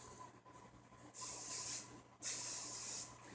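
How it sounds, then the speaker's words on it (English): Two long bursts of hairspray hiss out close by onto hair, separated by a short pause, over a faint low hum. "take your working hairspray, and spray all the outside"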